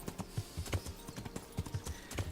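Horse hooves clip-clop steadily on the ground in Kingdom Come: Deliverance, a regular trotting rhythm of close, moderately loud hoofbeats throughout, with no talking.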